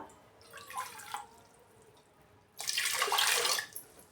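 Water added to a pressure cooker with washed moong dal in a home kitchen: a short trickling pour, a pause, then a louder steady splashing pour lasting about a second, close by, no voices.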